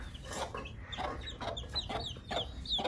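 A hen clucks repeatedly at close range, soft rhythmic calls with faint high chick peeps mixed in.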